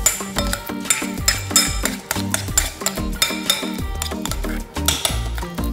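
A spoon stirs pickling liquid with added cinnamon in a pot or bowl, giving a rapid, rhythmic run of clinks and scrapes against the sides, close and fairly loud, with no talk.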